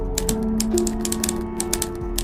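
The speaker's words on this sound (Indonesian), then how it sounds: "dari tuts besi yang menghantam kertas terdengar semakin jelas dari arah bilik nomor 4" Metal typewriter keys strike paper in a booth at a PlayStation rental shop in 1998, a rapid, steady clatter of close strikes over a low hum.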